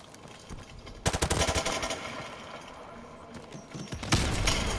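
Rapid automatic gunfire from a French online multiplayer game, loud and close, with dense bursts that start suddenly, hold steady for about three seconds, pause briefly and then open up again.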